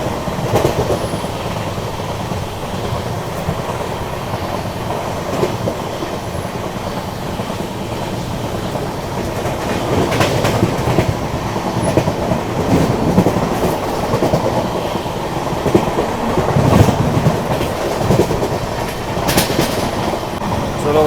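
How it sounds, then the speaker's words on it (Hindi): Passenger express train running on track under repair, steady broadband rumble with rhythmic clickety-clack of wheels over rail joints, growing slightly louder as it picks up speed, heard from inside the carriage with no talk. "अब जाके थोड़ी स्पीड अप हुई है ट्रेन"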